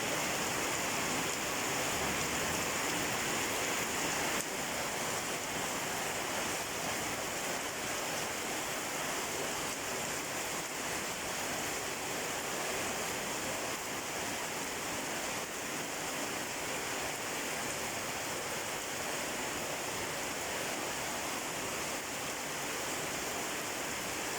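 Heavy rain beats against a window in a dense, unbroken hiss that stays loud and even throughout, with no distinct thunder.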